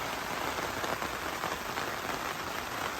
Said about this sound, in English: Catching a little bit of rain right now.